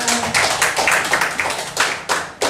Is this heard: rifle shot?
no